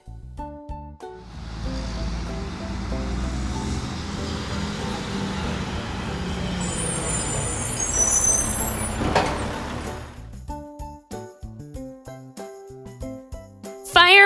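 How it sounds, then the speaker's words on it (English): A garbage truck rumbles steadily with engine noise, then a loud air-brake hiss, followed by lighter clanks and beeps as it settles. "Garbage truck."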